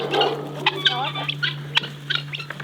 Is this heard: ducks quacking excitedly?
yes